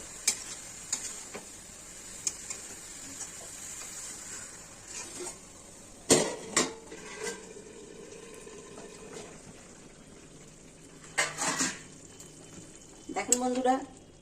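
Soybean and cabbage cook in a pan with a low simmering sizzle, punctuated by intermittent spoon clatters and scraping stirs, some loud and sharp, over a quiet steady bubbling.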